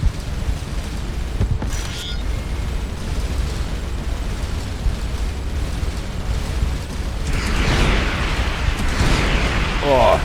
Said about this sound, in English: Too close to counter, but the space station is destroyed.